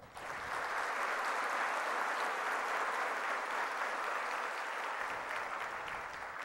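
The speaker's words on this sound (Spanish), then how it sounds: "Un aplauso, por favor." An audience applauds at a university graduation ceremony with dense, sustained clapping that holds steady for several seconds before tapering slightly.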